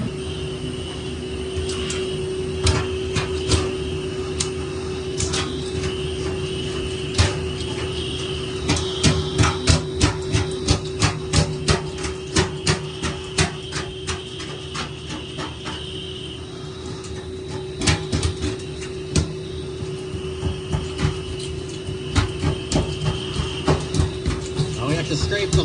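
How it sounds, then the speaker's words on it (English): Repeated rasping strokes of a razor-sharp scraper strip old coating from a 1920s cast iron bathtub, coming in clustered bursts of quick scrapes over a steady hum, with a voice talking at times. "To scrape the whole tub like this now"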